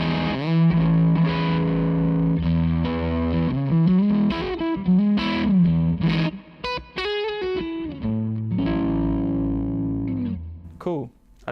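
Electric guitar played through a Zander Circuitry Cafetiere V3 fuzz pedal, giving a thick, saturated, sustaining tone with held chords and quicker single-note runs, loud and up close.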